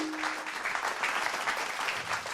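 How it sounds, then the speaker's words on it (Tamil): Enthusiastic audience applause at a Tamil stage event honouring a silambam martial arts teacher, a dense steady wash of many hands clapping close and loud, with a brief tone near the start. "ஒரு உற்சாகமான கைத்தட்டலோடு"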